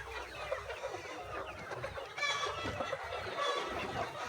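Chickens being debeaked on a poultry farm cluck and chatter at moderate distance, with several overlapping calls and an occasional louder squawk over a steady background hum.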